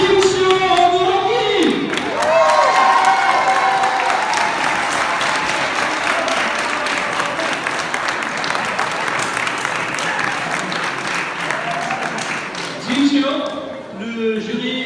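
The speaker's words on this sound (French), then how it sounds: "un tonnerre d'applaudissements pour..." A crowd at a Japan Impact convention contest gives loud, sustained applause with cheers for the second-place finisher on the podium, while an announcer's amplified voice talks over the start and end.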